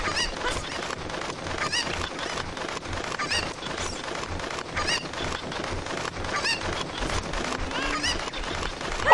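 Chickens cluck and squawk in a continuous, dense chorus in the video game The Legend of Zelda: Ocarina of Time, loud and steady with no talk.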